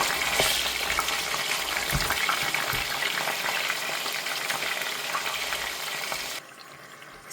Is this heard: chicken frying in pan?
yes